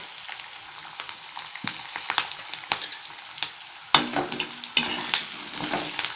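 Chillies sizzle and crackle in hot oil in a pan while cooking peanut kuzhambu, with sharp spattering pops and stirring scrapes, two louder bursts standing out near the end.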